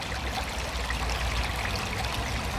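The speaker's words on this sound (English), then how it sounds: "Just enjoy the sound of that water" Water flows steadily in a small stream beside a stone stack, a close, continuous trickling and rushing with no voices.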